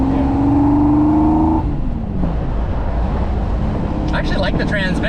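A Land Rover Defender with a swapped Corvette LT1 V8 and Tremec T5 transmission accelerates hard, its engine note rising then dropping into a rumbling roar, with voices talking near the end.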